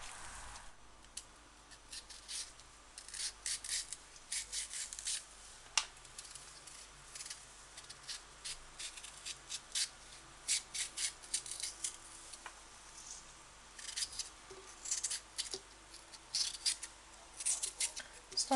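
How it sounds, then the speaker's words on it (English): A knife thinly slices runner beans in a quiet kitchen, giving a steady series of soft crisp cuts that is faint and close, with occasional light knocks against the board. "I'll string it and cut it across to see how it is in the middle."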